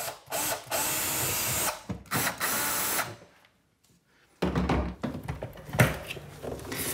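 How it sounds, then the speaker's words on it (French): A power drill bores into a wall in several loud, harsh bursts, then a few seconds of near silence, followed by rougher, uneven grinding and knocking. "Il faut percer à nouveau dans le mur."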